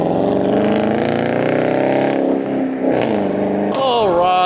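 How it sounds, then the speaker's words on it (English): A car approaches along a road at night, its engine drone swelling steadily and loud, with the pitch shifting as it nears. "I hear a car coming"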